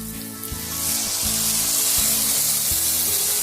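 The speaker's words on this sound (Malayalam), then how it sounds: "എന്റെ അമ്മേന്റെ ഹെൽപ്പില് ഇനി നമുക്കിത് പൊരിച്ചെടുക്കാം." Jackfruit pieces deep-fry in hot oil with a loud, close, steady sizzling hiss that runs throughout, alongside a low rhythmic mechanical hum and no speech.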